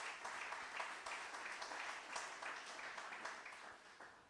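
A church congregation applauds together in a sustained, even wave of many hands clapping, fairly distant and soft, lasting several seconds without pause.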